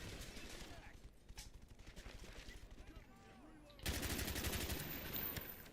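In Call of Duty: Black Ops, an RPK light machine gun fires rapid, rhythmic bursts amid other battle noise, swelling into a loud sustained burst near the end.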